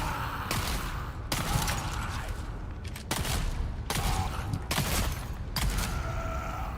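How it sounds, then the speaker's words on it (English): A shotgun in the Dune: Awakening video game fires about six heavy, booming blasts at uneven intervals, each one loud and close, with a gritty rumble continuing between shots. "I'm actively just gonna keep shooting my shotgun until you die."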